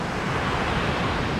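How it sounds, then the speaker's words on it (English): Ocean surf rolls in at New Smyrna Beach, Florida, fairly big waves in light wind, heard as a loud, continuous wash of broken water with a breezy hiss and no voices. "The surf actually looks much better than what the surf cams was showing. So I'm surprised. The waves are kind of big,"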